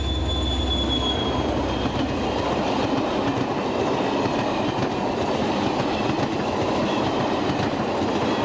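A CC 72000 locomotive-hauled passenger train running on the Nancy–Merrey line via Vittel, with a loud continuous rumble of wheels on rail, clickety-clack beats and faint squealing as it passes close by.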